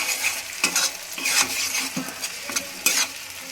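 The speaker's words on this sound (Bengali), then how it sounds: "এবার একে একে সমস্ত মশলাগুলো আমি এর মধ্যে দেবো" Spices fry in a pan on low flame for methi chicken, a steady close sizzle broken by several scraping strokes of a spoon stirring through the mix, with no voices.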